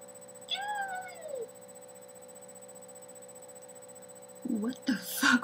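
A person imitating a cat's meow: one drawn-out, falling, whiny mew, then a quiet pause and a burst of further high vocal noises at the end, over a faint steady electronic hum.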